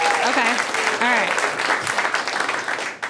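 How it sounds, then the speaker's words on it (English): Audience applause fills a comedy club, steady dense clapping from a crowd while a voice speaks over it. "Clap if you're married in here"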